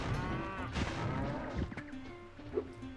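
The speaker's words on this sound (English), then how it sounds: "It's mooing time." In Spyro 2: Ripto's Rage, a cartoonish cow moo sounds amid game audio, with a thud and smacking hits around it, all at moderate, fairly quiet level.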